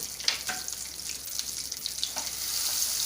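Cashews and green chili frying lightly in a kadai pan, a soft hiss with faint scattered crackles and a few small knocks, quiet and close with no voice.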